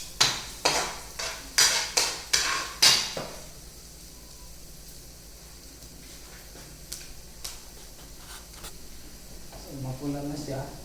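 A utensil scrapes and clanks in a pan of sautéing onion and garlic, about eight sharp rhythmic strokes, then only soft, faint cooking noise, with a voice speaking near the end.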